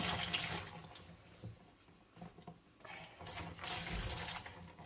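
Hand-dyed, solar-dyed wool roving squeezed gently over a tub, water running and splashing back into it in uneven surges, with wetter gushes near the end; no talk over it.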